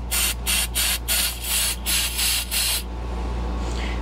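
Cleaner is sprayed into a Yamaha Blaster carburetor's choke area in about seven short, loud hissing bursts at a steady rhythm, then stops, leaving a faint low hum.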